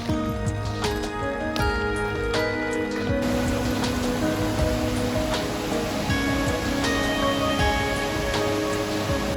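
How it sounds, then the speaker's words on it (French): Heavy rain pours steadily along a muddy mountain trail on the Tour du Mont Blanc, a loud dense wash of drops with close scattered splashes and no talking. "Beaucoup de pluie, des chemins pleins de boue."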